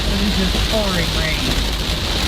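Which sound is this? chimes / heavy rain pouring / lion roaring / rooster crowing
heavy rain pouring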